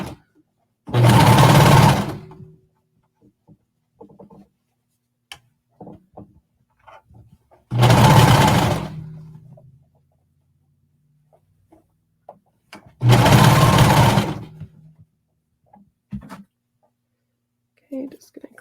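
A home sewing machine runs a stretch stitch along a leggings hem in three steady bursts of about a second and a half each. Quiet gaps between them carry small handling clicks and fabric rustles.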